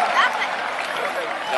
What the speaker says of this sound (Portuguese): E vamos aplaudir.